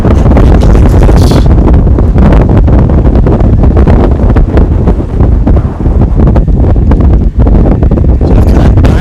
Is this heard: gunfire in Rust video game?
no